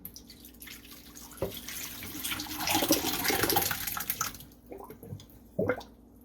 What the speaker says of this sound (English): We're going to pour our tapioca into a strainer.